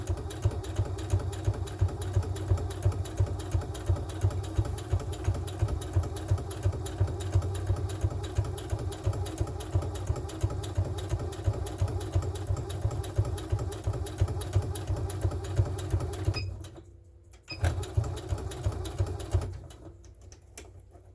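A sewing machine stitching bunting flags, running a few stitches then back stitching, a steady rapid mechanical chatter up close that stops briefly near the end before resuming.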